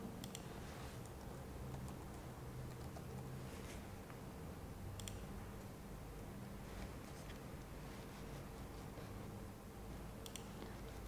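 Login details are typed on a computer keyboard: faint, sparse key clicks scattered over a steady low hum of background noise, with no voices.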